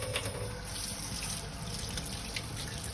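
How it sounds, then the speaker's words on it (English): Water runs steadily from a kitchen tap into a sink while hands are washed, a close, continuous rushing splash with no breaks. "we are going to wash our hands to make sure that we are remaining germ-free in the kitchen"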